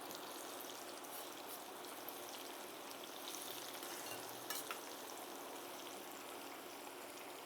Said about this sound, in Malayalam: അപ്പോൾ ഇനി ഇത് നമുക്കൊന്ന് വറുത്തെടുക്കാം